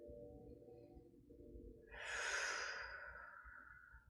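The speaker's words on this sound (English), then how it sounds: "Let's breathe here." Slow, deep breath during a yoga warrior pose, a soft hum fading into a long, audible breathy exhale, close and fairly quiet.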